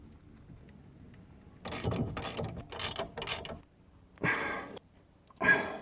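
Ratchet clicking on the 13mm bolts of a Ford Fiesta Mk6 brake caliper, in four quick close bursts followed by two shorter runs, with quiet gaps between.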